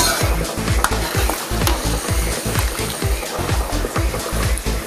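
Tomato sauce being stirred into a simmering beef pochero stew, a loud close bubbling sizzle with a regular scraping rhythm of the spoon against the pot, no talk.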